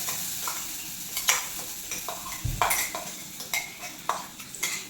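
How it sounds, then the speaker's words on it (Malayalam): Ground chutney added to a hot pan with fresh curry leaves and fried, giving a steady sizzle with repeated scraping stirs and light clinks of a utensil against the pan, close and clear with no talking. "ഇനി നമ്മൾ അരച്ച ചട്നി ഇതിലേക്ക് ചേർത്ത് കൊടുക്കാം."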